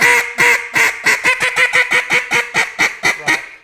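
A duck call quacks in a rapid series of about fifteen loud, nasal blasts, close and alone, tapering slightly in pace.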